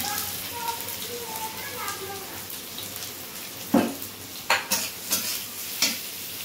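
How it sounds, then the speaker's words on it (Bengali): Whole garam masala (cinnamon, cardamom, cloves) and onions sizzle in a pan with soft frying hiss, followed by several sharp stirring scrapes and clatters near the end. "গোটা গরম মশলা দিয়ে এরপর পেঁয়াজগুলো ভাজা হবে"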